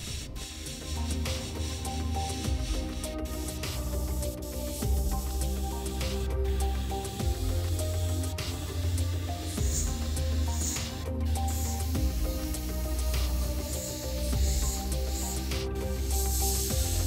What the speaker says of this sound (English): Then I sprayed the exposed surfaces with a 50-50 mix of polished aluminium and